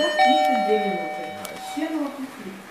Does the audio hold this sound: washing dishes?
no